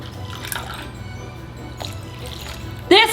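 A second half cup of water trickles into a pie crust for a water pie. Soft dripping and pouring sit over a low hum, and a louder clatter comes near the end.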